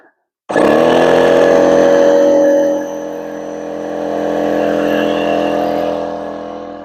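Air compressor powering an air line and spray gun during boat work, kicking on abruptly and settling into a loud, steady droning run with a slight dip and swell in level, no talking.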